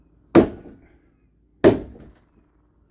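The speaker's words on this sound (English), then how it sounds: "Replacing the main beam with a 40-pound sledgehammer." A 40-pound sledgehammer strikes the main beam of a second-story deck or porch twice, each blow a heavy close thud with a brief decaying ring, separated by quiet, with a third hit starting at the end.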